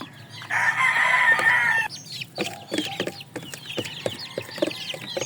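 A loud, drawn-out fowl call opens, then young chicks peep in quick, scattered bursts while pecking at feed, close by and fairly faint.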